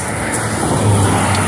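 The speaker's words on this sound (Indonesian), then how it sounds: "Dari timur nih ada bis" An intercity bus on the Trans Java toll road rushes past with a loud, steady roar of engine and tyres that swells slightly as it nears.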